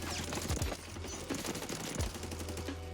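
Holger 2.6 machine gun in the Warzone video game firing in sustained full-auto bursts, a dense rattling stream of shots with low thumps, loud and close with no talking.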